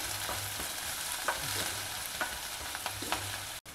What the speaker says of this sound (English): stir fry the onions a little bit